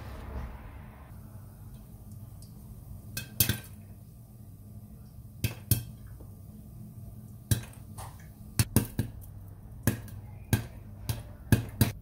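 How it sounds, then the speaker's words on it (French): Popcorn popping in a covered pot over low heat, sharp isolated pops spaced irregularly, starting sparse and growing more frequent toward the end, close against a quiet background. "Et on va laisser éclater mes popcorn tranquillement."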